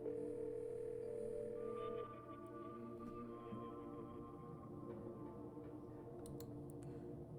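In the video game Scarlet Hollow, a phone call rings out: a steady electronic dial tone for about two seconds, then quieter ringing tones, ending with a few faint clicks.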